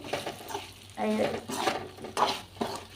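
Bitter gourd (kakarakaya) pieces sizzle and fry in a little oil, seasoned with salt and chili powder, while a spoon stirs and scrapes through them in a pan in several short bursts at close range.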